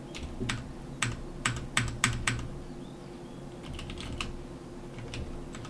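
Keys on a computer keyboard clack in sharp, uneven bursts, a quick cluster of loud strokes followed by softer, sparser tapping, close-miked over a low steady hum.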